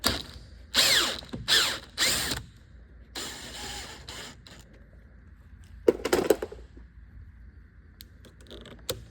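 Torx T25 screws backed out of a Porsche 992 door panel: a few quick bursts of ratcheting driver clicks and whirring, then scraping handling and small metallic clinks, fairly close, with no talk.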